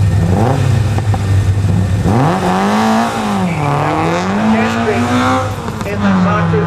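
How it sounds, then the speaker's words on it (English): A Mark 1 Ford Escort race car in the 1600 to 2 litre class at a hill sprint climbs through its revs, with engine pitch rising and falling through gear changes, loud and close under a continuous commentator's voice. "Mark 1 Ford Escort, 5 miles. Running through"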